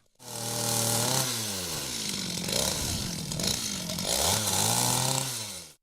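Chainsaw cutting down eight-year-old walnut trees, a loud, close petrol engine that revs up, bogs and pitches down as it bites into the wood, then rises again, running continuously before stopping.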